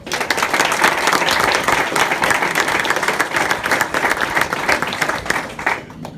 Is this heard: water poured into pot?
no